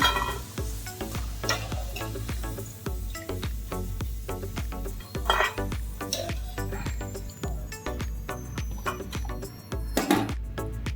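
Potato chips in a second, double fry in hot oil, giving a continuous sizzle with dense bubbling crackle and frequent clicks of stirring, close and moderately loud.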